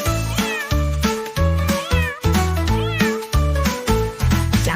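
Repeated cat meows in short rising and falling calls, set against a bouncy musical backing with a steady beat.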